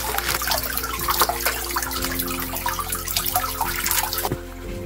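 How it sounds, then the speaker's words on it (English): Fallow deer liver rinsed under running water outdoors, a steady splashing stream with handling noises, fading quieter near the end. "We're going to clean the liver out first and wash it a bit."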